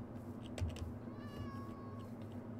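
A cat meows in Minecraft: one short meow stands out over a steady background hum with faint clicks, fairly quiet and with no voices.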